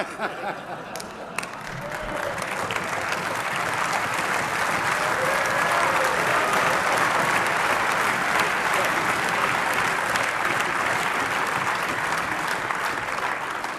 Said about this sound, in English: That's the last time you are applauding here.